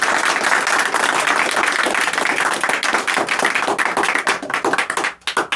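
Loud, sustained applause from a crowd at a student awards ceremony, dense clapping that carries on steadily before thinning out near the end.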